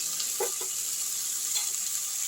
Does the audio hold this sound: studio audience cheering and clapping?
no